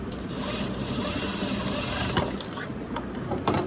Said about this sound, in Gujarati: આ મશીન છે, સિલાઈ મશીન છે